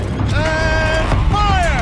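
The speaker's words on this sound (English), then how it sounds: "Rotate turret!" A gun turret in the Horizon Zero Dawn game turns with a steady mechanical creak and rising, whining gear tones, loud and continuous with a brief pause partway through.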